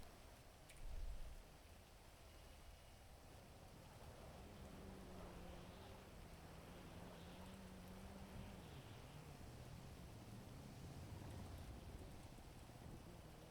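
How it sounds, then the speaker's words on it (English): Steady rainfall hisses throughout a video game scene, with a brief low thump near the start and faint tonal sounds drifting underneath. "Tried to get out of the rain and I'm still in the rain."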